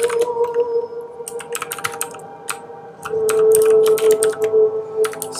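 Rapid computer keyboard typing during a coding session for a Twitch bot: clusters of sharp key clicks in uneven bursts, close and loud over a steady background music tone.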